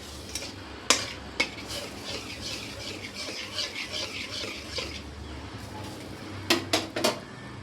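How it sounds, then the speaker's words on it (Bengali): Yogurt is stirred in a pan with a metal utensil, producing soft scraping and several sharp clinks against the pan at irregular intervals, fairly close and quiet overall. "আমি এভাবে নাড়াচাড়া করতে থাকবো।"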